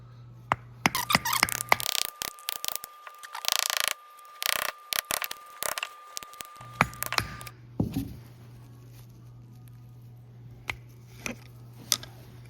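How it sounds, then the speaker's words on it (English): A screwdriver is punched against the front axle oil seal of a Kubota BX25D compact tractor, giving a series of close, sharp metallic clicks, scrapes and knocks in irregular bursts, with a faint steady hum underneath. "I'm going to put the screwdriver in on an angle so I don't damage the seating surface. And I'm going to punch it inwards."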